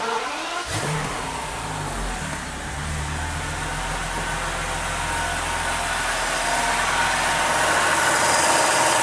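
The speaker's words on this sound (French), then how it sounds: "le moteur tourne parfaitement sur ses 12 cylindres" A BMW V12 engine with newly fitted ignition starts up and settles into a smooth, steady idle on all twelve cylinders, a loud, even mechanical hum that holds without any stumble.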